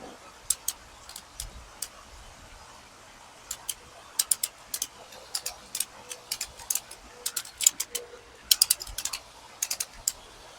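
A ratchet strap cranked tight on a patio sun shade sail gives a quick series of crisp metallic clicks in uneven bursts, close and fairly loud over quiet outdoor background.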